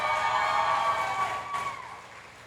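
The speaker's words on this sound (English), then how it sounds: "Please give them a big round of applause." An audience applauds the Masters women competitors at the Australia's Strongest Man and Woman 2024 strongman event, a brief burst of clapping and cheering that fades out after about two seconds.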